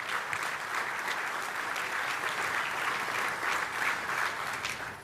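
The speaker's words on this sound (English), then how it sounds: "Let's give them all a round of applause" An audience at a military land forces conference in the Pacific gives a full, sustained round of applause, dense and fairly loud throughout, with no speech.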